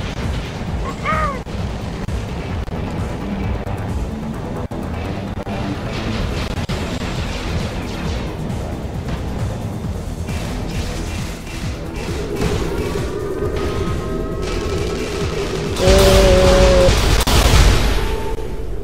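Rolling orbital strike explosions in the Tribes Ascend shooter game, a continuous rumbling barrage with booming impacts that swell louder near the end, mixed with whining weapon and jet effects.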